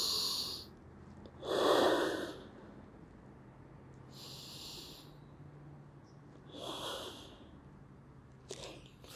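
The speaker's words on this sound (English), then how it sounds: "we simply breathe into our belly, trying to expand our belly as big as we can throughout deep nasal breaths" Deep nasal belly breaths drawn through the nose come in slow, soft airy swells, three or four quiet inhales and exhales spaced several seconds apart.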